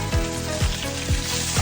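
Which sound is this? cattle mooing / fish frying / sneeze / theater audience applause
fish frying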